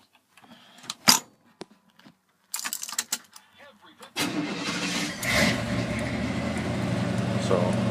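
A Chevrolet K10 Scottsdale pickup with an ignition fault: keys rattle and click in the ignition, then an engine rumbles into a steady idle close by.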